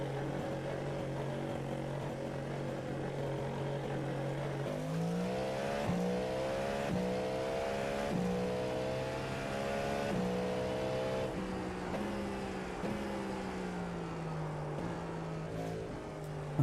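A Ferrari race car in the Le Mans Ultimate racing game, its engine droning steadily and loud at close range, pitch rising and falling through repeated gear changes, with no talk over it.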